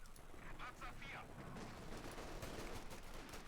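Gunfire from the Company of Heroes 2 video game, including an M1 anti-tank gun, crackles in rapid bursts throughout at moderate volume, with a caster's voice talking over it.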